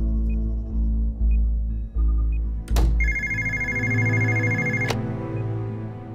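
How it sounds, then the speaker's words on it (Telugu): A telephone rings in a mission control room during a Mars mission launch countdown, one sustained electronic ring lasting about two seconds, loud and close over a low steady hum. "లాంచ్ సైట్ నుంచి ఫోన్ వచ్చింది."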